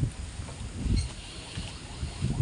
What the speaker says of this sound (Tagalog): Oh, narinig niyo ba yung hangin?